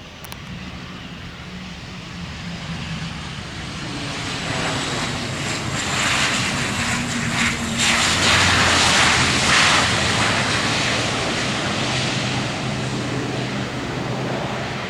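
An ATR-72 turboprop lands on runway 07L in strong wind. The engine roar swells from a distance, peaks close overhead and then fades into a broad whooshing rumble.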